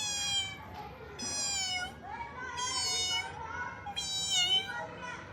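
A voice imitates a cat meowing, producing four drawn-out, whiny meows one after another, close and fairly loud.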